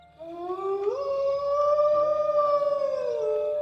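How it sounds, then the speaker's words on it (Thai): A long, wavering dog howl rises and holds, clear and fairly close, with another canine voice joining faintly beneath it. "หลังจากนั้นหมาตัวอื่นๆ ก็ปล่อยหอนรับช่วงกันเป็นทอดๆ"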